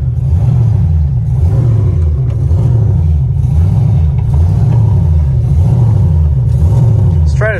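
An LS V8 swapped into a Nissan 240SX S13 drones loudly from inside the car while driving, a deep steady rumble with a rhythmic surging pulse throughout.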